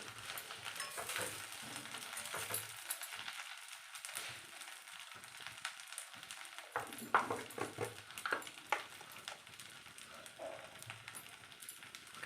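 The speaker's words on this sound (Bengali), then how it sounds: "সব সবজি এখানে দিয়ে দিলাম আমি এটাকে একটু ভালো করে কষাবো" Vegetables sautéing in a pan for a home-style Bengali dish give a steady, close sizzle with occasional stirring scrapes, running alone without talk.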